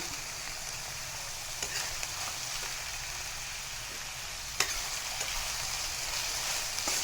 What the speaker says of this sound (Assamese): আলুখিনি অলপ ভাজি লৈ